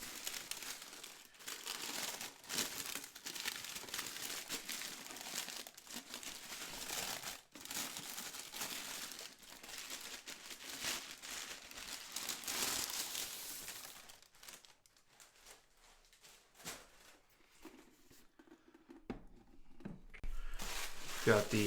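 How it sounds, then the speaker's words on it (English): Paper and tape being pulled and crumpled off a boxed Black Series Bo-Katan collectible helmet, a steady close crinkling and tearing for most of the stretch before it quiets and a few louder rustles return at the end. "the helmet is heavily wrapped in a lot of paper and tape. So let's get it out."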